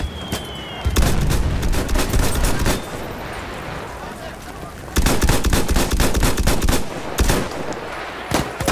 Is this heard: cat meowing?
no